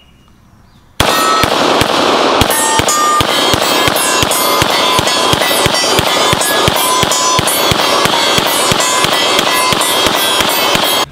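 Gun fired in a rapid, evenly spaced string of loud, sharp, close cracks that continue for about ten seconds.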